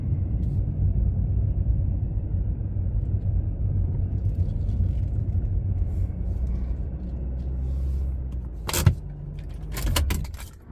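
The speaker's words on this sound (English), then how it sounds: "what a fun drive in the old Shelby today" An old Shelby car drives a mountain parkway in the Blue Ridge in fall, its engine a steady, close low rumble throughout, with a few sharp clattering knocks near the end as the car slows to pull off.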